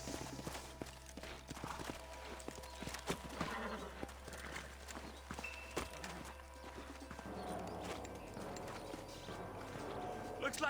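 Horses clip-clop along at a trot with an occasional whinny in the Red Dead Redemption western video game, steady hoofbeats close by over a constant bed of ambient game sound.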